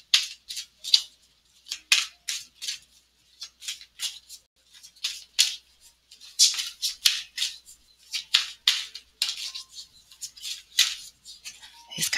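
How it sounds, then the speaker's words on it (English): Playing cards being shuffled in repeated quick riffles and snaps, crisp and close, in irregular bursts with short pauses between. "These cards are kind of big. I feel like I shuffle very oddly with them."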